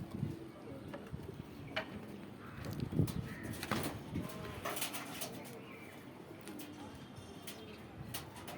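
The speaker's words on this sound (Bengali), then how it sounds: "এই যে দুটো কবুতর পাশাপাশি বসে রয়েছে দর্শক দেখতে পাচ্ছেন আপনারা।" Pigeons coo at their coop, soft repeated throaty calls near and far over a steady background, with scattered light knocks and rustles.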